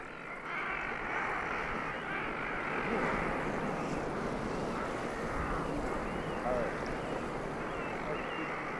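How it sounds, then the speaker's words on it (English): Waves break on a shore around Zodiac inflatable boats, making a continuous rushing roar that is mixed with wind buffeting the microphone and stays steady throughout. "Even though we're being tossed about by the waves that break on the shore"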